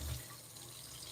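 Hot water runs from a kitchen tap, a quiet steady hiss that holds evenly for a moment with no talking.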